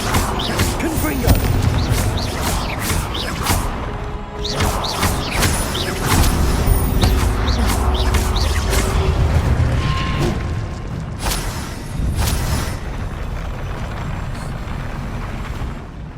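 Confringo fire spells cast in Hogwarts Legacy on PS4 set off repeated booming explosions over dense game music and effects, with crashes and rumbles spread through the whole stretch.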